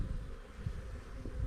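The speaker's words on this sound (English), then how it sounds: "there's tons of bees in the bottom here" Honey bees in a hive, where a walk-away split is being checked, keep up a steady low drone of buzzing wings, faint and continuous, with a few soft bumps near the microphone.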